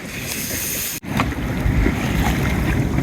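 A sailing boat runs slowly downwind at sea in about nine knots of breeze against a current, with continuous loud wind rush and water wash around the hull, briefly cut near the start.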